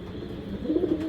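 Racing pigeons, silver racers, cooing in a loft, a short soft low coo swelling near the end over quiet background hum.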